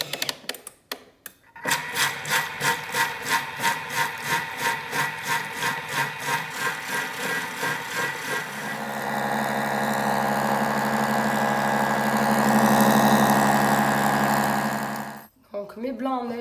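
A Thermomix whisking egg whites at speed 4 gives a rhythmic mechanical whirring, pulsing at first and then settling into a steady motor hum before stopping.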